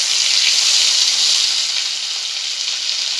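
Ginger and cumin paste sizzles loudly in a pan with fried potatoes for a potato and cauliflower chana dal, a dense, continuous hiss close by with no voices.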